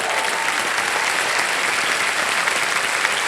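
A KBC studio audience claps loudly and steadily, a dense, even wash of applause that fills the whole stretch without any break.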